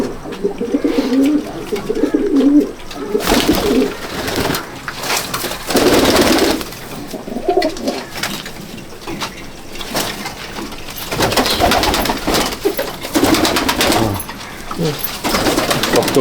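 Andhra and Malwai pigeons coo in a loft at Subhasgram, their low repeated calls rising and fading in bursts with brief shuffling and rustling between them, close and fairly loud.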